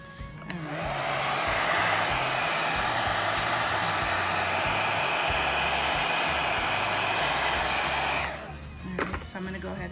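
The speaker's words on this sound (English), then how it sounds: "get the hair dryer and blow dry this real quick" A hair dryer blows steadily at close range for around eight seconds, a loud continuous whoosh over a low motor hum, then switches off.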